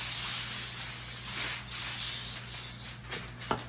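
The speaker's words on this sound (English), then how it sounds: "I'm going to put cooking spray on my foil so that it doesn't stick to the cheese." Cooking spray hisses from an aerosol can onto aluminum foil, long continuous bursts broken by short pauses, close and loud, then a faint crinkle of foil at the end.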